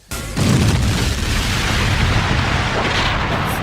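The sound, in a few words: missiles firing and exploding in Sonic cartoon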